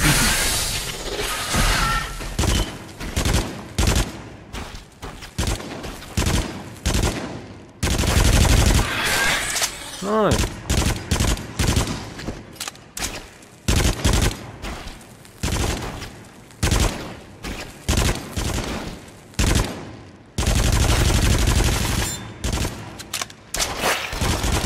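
Rapid bursts of gunfire in the VR shooter Until Dawn: Rush of Blood on PSVR, loud and dense, crackling in repeated clusters with brief gaps, mixed with game effects and an occasional whoosh.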